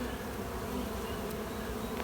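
Honeybees hum steadily on the brood comb of a hive around a large queen, a dense continuous buzz close at hand and alone, with no voices.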